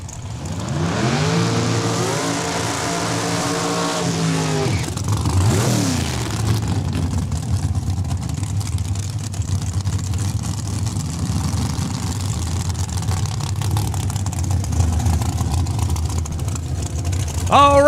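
Drag racing car engines revving at Saskatchewan International Raceway, opening with rising and falling engine sweeps, then settling into a loud, steady engine drone under a voice over the loudspeaker.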